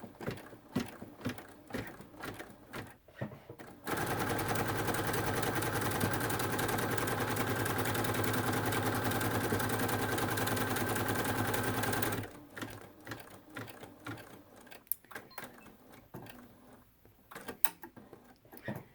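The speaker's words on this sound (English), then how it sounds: "the next step will be to sew the seam line" A sewing machine runs steadily for about eight seconds, stitching a seam line beside a zipper, its fast even mechanical hum starting abruptly and stopping cleanly, with quieter handling clicks before and after.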